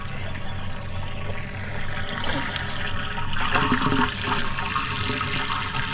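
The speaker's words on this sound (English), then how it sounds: "So just filling the tanks up." Water gushes from a hose into a sailboat's freshwater tanks, a loud, steady rushing flow that thickens and gurgles midway, with no voices.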